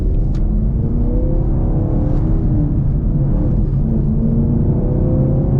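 A manual Chevrolet Camaro 2SS 1LE engine runs loud and close after a restart, a continuous deep rumble with a steady whirring drone while driving, and no voices.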